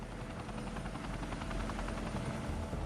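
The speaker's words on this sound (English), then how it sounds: "Chinook helicopters are drafted in to dump water from the air." A Chinook helicopter dropping seawater over the Fukushima nuclear plant flies close by, its twin rotors beating a steady, dense thump over a continuous loud roar that holds for about three seconds without any voices.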